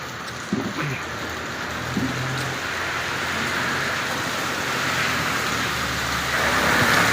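Steady rain pours over an Al Khobar city street in Saudi Arabia, a dense, even hiss that fills the whole stretch and swells slightly toward the end, with faint traffic beneath.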